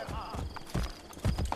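Horse hooves clip-clop in a steady, close rhythm as a mount trots in the video game Assassin's Creed Brotherhood, with faint game voices underneath.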